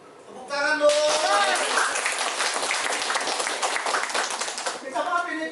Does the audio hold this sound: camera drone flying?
no